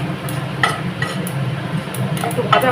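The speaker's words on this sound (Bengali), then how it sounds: "সামান্য সর্ষে ফোড়ন দিয়ে এবার নাড়াচাড়া করতে হবে কিছুক্ষণ" Mustard seeds tempering in light oil in a pan while being stirred, for fried bitter gourd: a low sizzle throughout with scattered scrapes and clinks of the spoon against the pan, fairly close.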